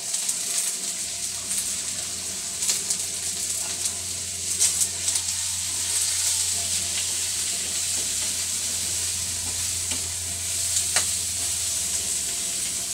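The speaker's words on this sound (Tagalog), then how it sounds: "So, habang ginigisa po natin ang sayote, lagyan po natin ng kaunting asin." Chayote sautéing in a pan with a steady, close sizzle and occasional stirring scrapes, running alone without talk for the whole stretch, with a faint low hum underneath.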